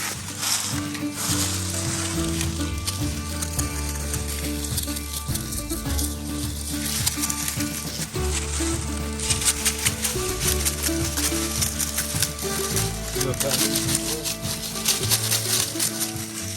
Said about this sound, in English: hopefully you can hear me over all the rustling